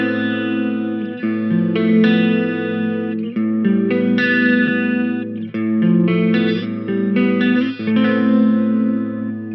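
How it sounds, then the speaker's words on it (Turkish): A Mooer Hornet 15i electric guitar amp on its Sonic Clean channel with chorus switched on carries sustained, shimmering strummed chords, loud and continuous, with the wavering chorus swirl running under each change of chord and no talking. "Chorus efektinin de güzel geldiğini duyuyoruz zannedersem. Burada chorus açık."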